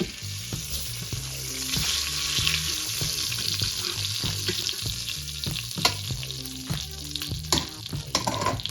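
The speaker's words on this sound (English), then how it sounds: "once your meat is browned, you want to add liquid to the pot to deglaze it" Browned oxtail in a hot Instant Pot pot gets a splash of liquid to deglaze it, producing a steady, close sizzle and hiss with scraping and stirring clatter throughout, and no talking.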